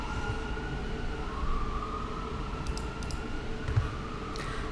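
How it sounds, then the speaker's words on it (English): Police sirens wail outside, a distant steady siren tone drifting in pitch behind room noise, with faint clicks scattered through. "Sorry about the police sirens outside."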